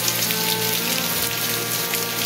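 Heavy rain pours at Topchanchi Lake dam in Dhanbad, Jharkhand, a dense steady hiss of drops beating on surfaces nearby, constant and loud with no voices over it.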